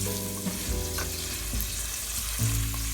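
Asparagus and mixed vegetables frying in oil in a pan over lowered heat, a steady close sizzle with occasional stirring scrapes and clinks, no talking.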